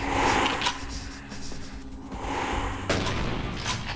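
Dense, rapid gunfire crackles continuously, like a firefight in a video game, with booming blasts mixed into a noisy, cluttered background.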